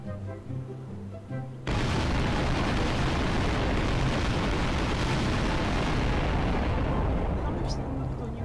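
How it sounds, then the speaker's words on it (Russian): A bomb blast in Garry's Mod bursts in suddenly after quiet game sounds and turns into a loud, sustained, roaring rumble that fills the rest of the moment. "давайте тогда скинем вот такую бомбу"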